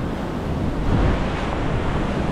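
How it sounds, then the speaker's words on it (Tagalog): Loud, continuous roar of strong ocean waves mixed with heavy wind noise at Avoca rock fishing spot, a constant wash with a slight surge near the middle. "lakas ang alon"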